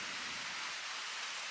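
Steady rain pouring down outside during a summer shower, a dense even hiss without a break and no voices.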